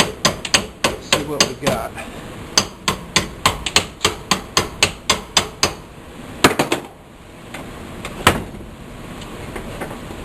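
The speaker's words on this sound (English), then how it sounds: "we can take off the clamp, chip away at our weld" A hammer chips slag off a fresh weld on a farm build, with a long run of sharp, evenly spaced metallic strikes close by, then a pause and a few scattered hits, and brief speech.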